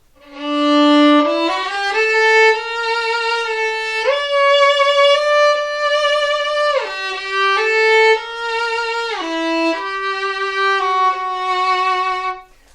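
A solo violin strung with Super Flexible strings plays slow, sustained notes with a warm, singing tone, stepping between pitches in a smooth melodic line.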